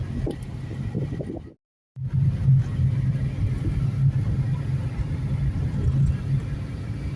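A car climbs uphill on the road up to the Vesuvius volcano, its steady low engine rumble and road noise continuous and close, briefly cutting out for a moment before resuming.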